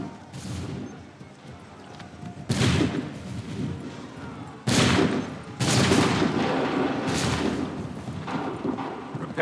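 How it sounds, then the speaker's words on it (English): Musket volleys in Assassin's Creed 3 roar out as several heavy, crackling bursts of massed gunfire, each one sudden and loud, then trailing into battlefield rumble, with shouting between the shots. "Open fire"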